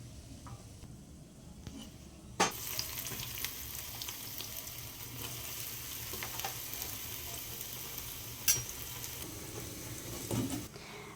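Bread slices frying in a pan give a steady, even sizzle throughout, with a few sharp clicks and utensil taps scattered on top.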